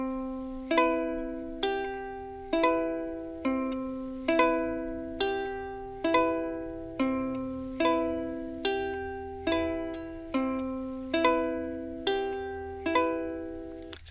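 Ukulele plucking a tune from Minecraft, a slow, gentle melody of single ringing notes and soft chords at an even pace, clear and close with no voices.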